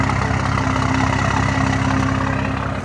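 Steady engine drone from a Toyota GR86 fitted with a Tomei exhaust, heard from inside during a ride, a continuous low hum with a faint tonal whine held at an even level throughout.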